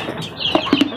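Backyard pet chickens, white hens among them, squabbling over afternoon feed, giving a few short close clucks and chirps that rise toward the end.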